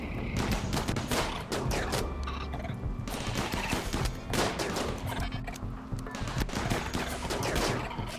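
Rapid bursts of gunfire from a RimWorld colony firefight ring out continuously, dense overlapping shots filling the whole stretch at steady loudness with no talk.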